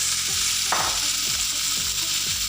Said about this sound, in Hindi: अब हम भिंडियाँ फ्राई करेंगे।